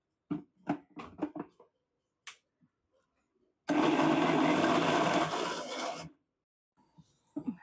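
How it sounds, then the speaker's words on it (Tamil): After some brief knocks and clatter, a mixer grinder roars loudly for about two and a half seconds while blending biscuit dough, then cuts off, followed by faint handling sounds. "இதை நல்லா நம்ம வந்துட்டு மிக்ஸில் அடிச்சுட்டு வந்துடலாம்."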